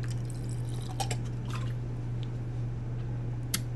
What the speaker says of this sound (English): quick squirt of my try-hard water bottle before the game starts